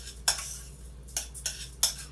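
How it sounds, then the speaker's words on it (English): A spoon stirs quinoa and white rice in a cooking pot, making three or four quick scraping swishes with metallic clinks against the pot, close up over a quiet hum and without speech. "give your quinoa and white rice a quick stir"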